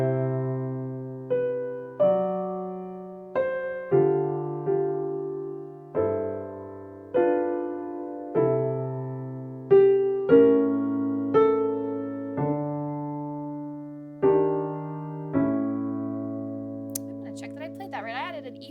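A piano plays a Christmas song at a steady gentle pace, a melody over simple left-hand chords with each note sounding clearly, close and alone with no one talking.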